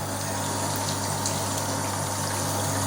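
A home-brewing pump recirculates hot wort, giving a steady mechanical hum with a low tonal drone under continuous gushing, rushing liquid, close and fairly loud throughout.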